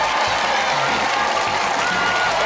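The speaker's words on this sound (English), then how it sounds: "You, sir, give him a big round of applause." Audience applause and cheering as a man comes on stage for a radio summer special broadcast, a dense, steady wash of clapping from a large crowd with voices mixed in throughout.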